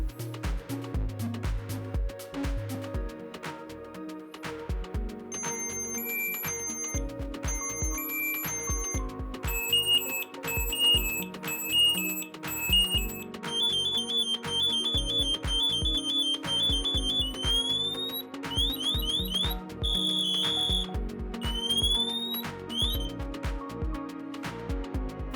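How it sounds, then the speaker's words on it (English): A Dräger AirBoss Sentinel PASS device sounds its pre-alarm as rhythmic electronic beeps and chirps, then escalates into a louder full alarm of rapid shrill tones and rising sweeps, continuous and close for over twenty seconds. "The pre-alarm will start and sound for another approximately 12 to 13 seconds. The full alarm will activate"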